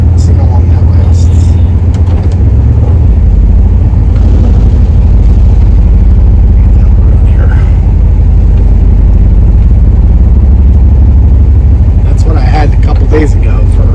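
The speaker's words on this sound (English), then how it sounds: "I have a perfectly idling van right now with no lights" A 1994–2002 Dodge Ram 1500 van idles after an idle air control valve replacement, a loud, steady low engine rumble close by that runs without pause, with a person talking over it.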